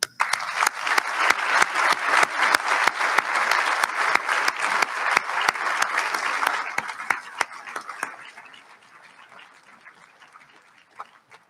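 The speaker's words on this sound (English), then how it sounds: "I just thought we should extend another big round of applause to all the students who are here with us today" An audience at a school speech event gives a round of applause for students and teachers, strong at first and then thinning to scattered claps before fading out near the end.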